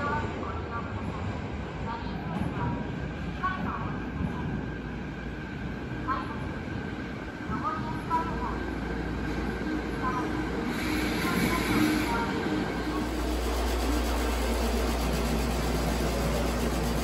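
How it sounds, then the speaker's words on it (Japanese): A Fukuoka City Subway Nanakuma Line train rumbles into the platform at Hashimoto Station, a low steady rolling roar building beneath platform ambience with faint chimes and a public-address voice, growing louder toward the end. "まもなく1番乗り場に博多行き電車が到着します。"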